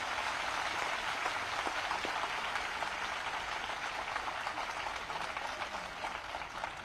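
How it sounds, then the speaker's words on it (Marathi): Audience at a Marathi political rally led by Uddhav Thackeray clapping hands together on request, a dense, steady wash of applause held at an even level across the whole stretch without pause. "या टाळ्यांनी माझ्या भाषणासाठी नाही वाजून घेतल्या"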